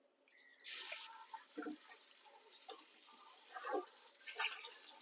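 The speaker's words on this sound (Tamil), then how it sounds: "இது வந்து நல்லா தண்ணியில் 2-3 வாட்டி அலம்பணுங்க" Quiet splashing and sloshing as food is washed in water inside a large vessel in a home kitchen, with scattered soft swishes, drips and clinks at close range.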